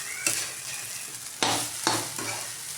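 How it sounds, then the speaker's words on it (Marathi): Sabudana (tapioca pearls) being stirred and roasted in a pan for sabudana khichdi, a steady dry sizzle broken by several loud scraping stirs close by, with no talk. "शाबू चांगले परतून घ्यायचे"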